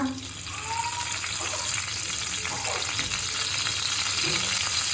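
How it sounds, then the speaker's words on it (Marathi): A bay leaf and a pinch of asafoetida hit about one and a half spoons of hot oil for a tempering, sizzling and crackling steadily up close with faint stirring. "टाकणार आहे आपण फोडणीला तेजपत्ता"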